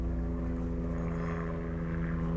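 A helicopter passes overhead, its steady low rotor and engine drone sounding moderately distant and continuous, with no voices.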